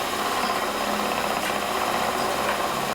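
A spinning wheel twisting fiber into yarn runs with a steady, even whirring and rubbing texture, close and constant for the whole stretch before cutting off abruptly at the end.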